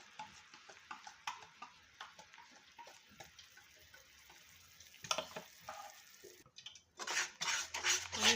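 Besan and ghee mixture stirred into hot sugar syrup in a pan for Mysore pak: faint, irregular scraping and clinking of a utensil against the pan with a soft sizzle, growing louder and busier toward the end.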